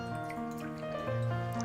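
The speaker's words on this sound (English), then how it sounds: "I'm going to pour some water now" Water is poured in a quiet, steady trickle while preparing raw food, with a faint continuous splash and drip that lasts the whole moment and has no talking over it.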